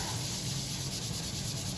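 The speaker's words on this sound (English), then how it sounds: "this sanding does suck quite a lot" Someone sands a wood-veneered guitar body by hand, making a steady, soft rubbing hiss that continues without a break at low volume.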